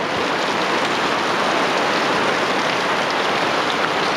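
Steady rain pours outdoors in West Virginia, a loud, dense, unbroken hiss of drops hitting surfaces with no pauses or voices.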